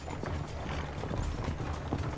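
Hooves of a ridden horse clip-clop on the streets of Renaissance Venice in Assassin's Creed 2, a quick, steady, close patter mixed with mechanical clicking and no speech.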